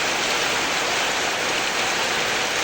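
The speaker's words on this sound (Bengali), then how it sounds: "খুব বৃষ্টি আসতেছে কিন্তু অনেক বৃষ্টি হচ্ছে" Heavy rain drumming on a tin roof in a Bangladeshi village, a dense, loud, unbroken roar of downpour with no voices heard.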